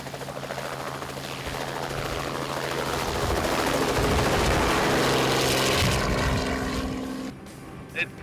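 A helicopter roars steadily at close range with a loud rotor chop, then the noise drops off abruptly near the end.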